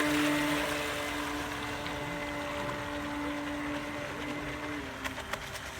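A Veron Fairy Huntsman RC boat runs at full throttle on a 4S battery, a steady close electric motor whine with water noise that holds evenly across the clip, with no talk.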